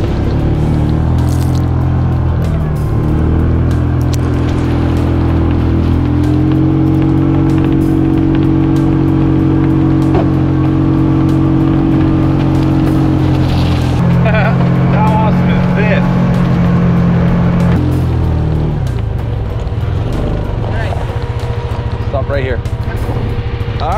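A vehicle driving on Pagan island in the Northern Mariana Islands, giving a loud, continuous engine drone with shifting tones and a rumbling, bumpy texture throughout, with some voices under it.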